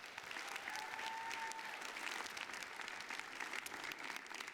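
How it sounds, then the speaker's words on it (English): Steady applause fills the room at the Rose Queen coronation event, a dense unbroken wash of clapping from an audience, fairly even in loudness throughout with a faint tone drifting through in the middle. "Give them a round of applause."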